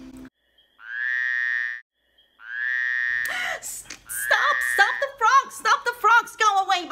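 Two drawn-out croaks from a frog sound effect in a children's Passover plague story, each about a second long, followed by animated storytelling talk.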